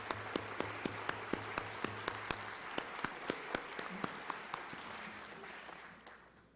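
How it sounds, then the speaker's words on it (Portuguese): Sparse, moderate applause at a formal ceremony honouring a guest, with distinct individual claps standing out over a softer wash of clapping that gradually fades; low room murmur underneath. "peço também uma salva de palmas à dona Marilena"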